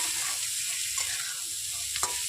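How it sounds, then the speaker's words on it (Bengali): Boiled chickpeas fry in a pan over medium heat with a soft, faint sizzle, broken by a couple of light utensil taps near the end. "খুব ভালোভাবে একটু ভেজে নিতে হবে যাতে কোনো রকম জল না থাকে"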